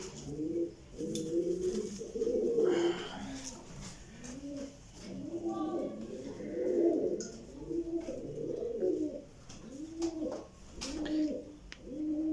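Pigeons coo from a nearby loft, repeated soft throaty rolling calls that overlap in a steady rhythm.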